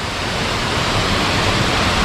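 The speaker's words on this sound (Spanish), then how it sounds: "he llegado a este impresionante lugar, la cascada Los Bronces." Los Bronces waterfall west of Puerto Williams, Chile, roars as a steady, dense wash of falling water, loud and close, with no pause or change across the whole stretch.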